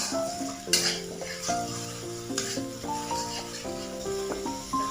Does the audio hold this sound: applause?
no